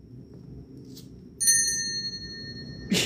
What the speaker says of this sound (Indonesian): Suara loncengnya pindah ke arah sini, cuy.